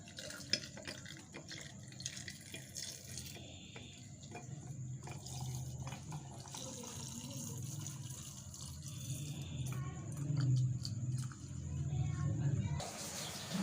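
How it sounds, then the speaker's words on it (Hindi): Watermelon drink poured over ice cubes in a glass, a soft continuous trickle and splash that grows slightly fuller toward the end, with faint clinks and a quiet voice in the background. "ऊपर से हम डालेंगे फ्रेश ड्रिंक।"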